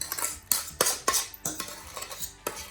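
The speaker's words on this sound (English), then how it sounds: "We'll use the spatula to get all the goodies out." A spatula scrapes banana-bread batter from a bowl into a cake pan in a series of close, sharp scraping and clinking strokes, roughly one every half second, with no talking.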